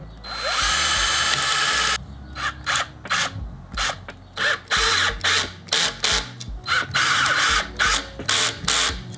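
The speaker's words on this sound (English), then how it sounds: "I'm going to add some pilot holes there, and then just add a couple of short screws" Power drill boring pilot holes for short screws into wood while building a DIY rockwool bass trap panel; one long steady whir, then a string of short, loud stop-start bursts close by, no talk.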